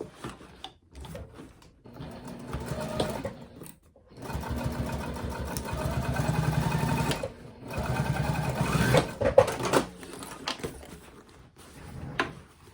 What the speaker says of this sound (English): now I'm just gonna stitch all along there to close up that hole